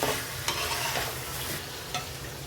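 Utensil scraping and stirring through chicken and spices in a hot pan, with a steady sizzle underneath and a few sharper scrapes.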